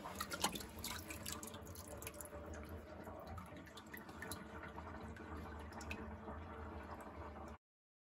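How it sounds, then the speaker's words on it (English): Water draining and dripping from a soaked goatskin banjo head, a steady faint trickle with scattered small drips and splashes, close and quiet with no talking. "So I'm just gonna drain out the water and let it drip dry a little bit."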